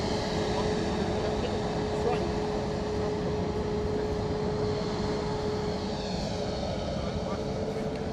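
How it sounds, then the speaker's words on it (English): A small private jet takes off from London Luton Airport for a short flight to Norwich, its engines giving a steady, loud, continuous roar with a sustained high whine throughout. "Next out the door is a little private jet heading out to Norwich."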